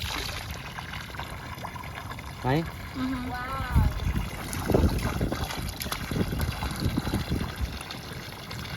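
Water trickles and splashes outdoors at a tree farm, a steady wash under wind noise, with a person speaking briefly over it.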